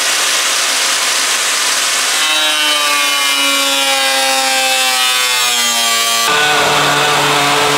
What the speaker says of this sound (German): Das wird auch gleich vom Sägen etwas komplizierter, weil wir müssen es einmal so sägen und dann einmal von innen sägen.